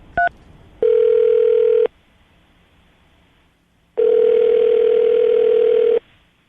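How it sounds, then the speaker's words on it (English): A telephone dial tone plays in two long steady bursts, each lasting a second or more, with a quiet gap between them and a brief higher beep at the very start. "I'm going to dial the phone number right now"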